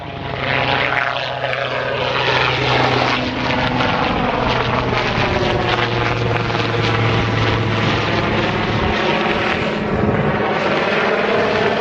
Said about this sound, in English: that quick helicopter interruption